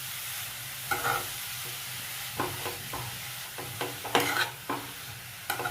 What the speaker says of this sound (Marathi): आणि हे गाजर चांगलं परतून घेते 2 मिनिटं